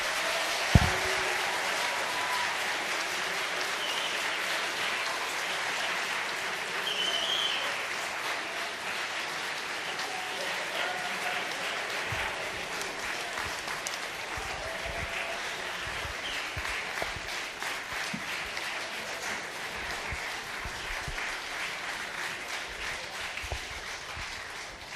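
Sustained applause from a lecture audience on Earth, atmosphere and oceans, a dense steady patter of many hands clapping for about twenty-five seconds at even strength, with scattered louder claps and no speech over it.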